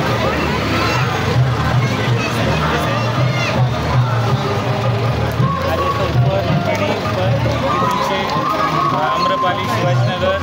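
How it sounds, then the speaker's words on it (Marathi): Large crowd gathered at a public award ceremony, a dense steady hubbub of many voices murmuring and calling together, loud and continuous throughout with no single speaker standing out. "कार्यक्रमाला मोठी गर्दी झाली होती."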